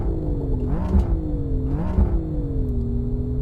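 BMW M3 engine in the Assetto Corsa racing game, heard from the cockpit view as a steady engine drone that rises in pitch twice with revving as gears change, then settles into a constant hum, with no talking.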